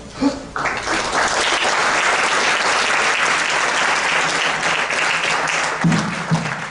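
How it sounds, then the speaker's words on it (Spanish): An audience at a lecture on a unified penal code breaks into steady, full applause to welcome the speaker, a loud continuous roll of clapping that tapers near the end. "vamos pues a recibirlo con un aplauso"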